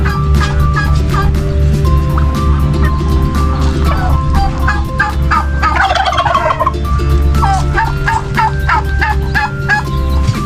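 Loud, repeated turkey gobbles ring out in bursts over a steady hum at a poultry farm, with other fowl clucking nearby.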